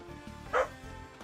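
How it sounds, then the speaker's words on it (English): A single short dog bark sounds in the background, brief and moderately loud against a steady low hum during a Red Bull ladder match cast of a strategy game. "We got a dog in the background."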